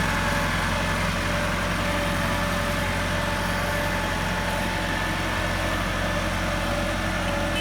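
A Massey Ferguson 375 tractor engine idling, a steady low diesel rumble with a constant hum, close and unchanging throughout, no voices.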